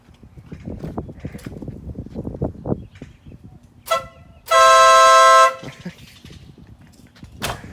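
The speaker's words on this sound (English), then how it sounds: "You can go ahead and honk my horn." A truck horn blares once in a loud, steady tone lasting about a second, after a shorter earlier toot, with engine rumble and people talking nearby.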